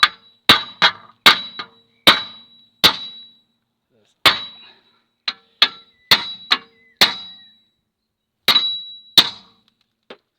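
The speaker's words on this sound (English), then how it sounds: "I used a hammer to take all the corrosion off it out" A hammer strikes hard against a corroded rear wheel hub on a pre-2008 Jaguar X-Type, ringing metallic clangs in an irregular series of about fifteen loud, close blows with short pauses between.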